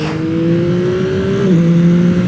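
2025 Yamaha R9 motorcycle engine revving on the road, a loud close steady tone that climbs gradually, then drops sharply as the rider shifts gear, then holds steady.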